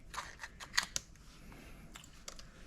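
Scissors snip the tip off a piping bag with a few quick, quiet clicks close by, then faint handling sounds in a hushed room.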